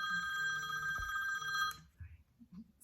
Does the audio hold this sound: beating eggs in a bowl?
no